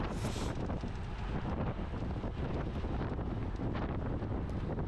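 Strong headwind buffets a cyclist's microphone during a road race, a loud continuous roaring rumble of gusts that fills the whole clip with no break.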